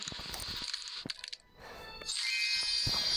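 Eggs are opened in the video game Pet Simulator X, bringing bright chiming, coin-like jingles and clicks that pause briefly and then swell into a sustained shimmering cascade.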